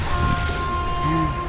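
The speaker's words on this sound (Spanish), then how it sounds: "Me empezó a llover más fuerte." Rain falls harder on a town street in Valle de la Pascua, a dense, steady hiss of drops close by that fills the whole moment, with a faint voice or passing sound underneath.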